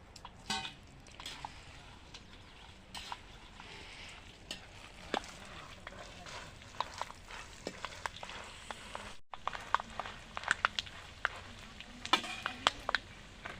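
Peanuts and chillies fry in oil for mango pulihora, a soft, continuous sizzle with scattered clicks and scrapes of stirring, quiet and close, with no voices.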